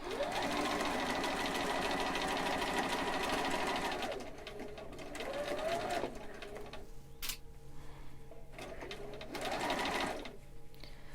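A sewing machine stitches a fitted face mask with a dart and gusset, running steadily and loudly for about four seconds, then in shorter bursts with pauses between them.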